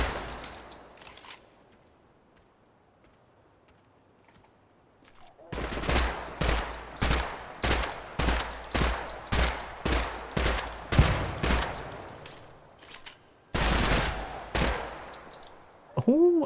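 Rapid bursts of video game gunfire, about a dozen sharp evenly spaced shots from roughly 5.5 to 12.5 seconds and another burst near 14 seconds, loud and close, after a quiet stretch with no talk.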